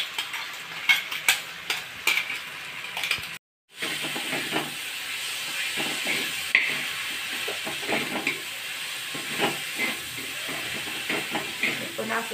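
A paste of chili, garlic and coriander sautéing in a pan makes a steady hiss and sizzle with scattered stirring clicks, briefly cut by a short silence, and a voice talks faintly over it.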